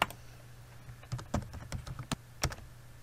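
A password is typed on a computer keyboard to unlock a BitLocker-encrypted flash thumb drive: a quick, irregular run of close, crisp key clicks with small pauses between them.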